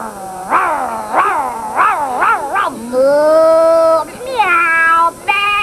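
A cat meows repeatedly, several short rising-falling mews in quick succession followed by a longer drawn-out meow and a couple more, close and clear.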